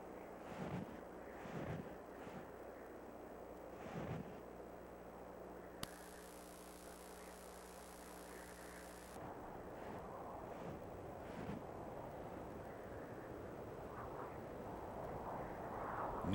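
Strong Arctic wind battering an open snowy cape, a steady low rushing roar with buffeting against the microphone, broken by a brief hissing burst midway, no voices.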